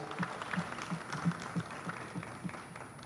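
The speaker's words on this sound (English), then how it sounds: "Can we give them a big round of applause?" Scattered applause from an audience at a national digital transformation launch event, a sparse, uneven rhythm of individual claps at moderate distance over a faint steady hum.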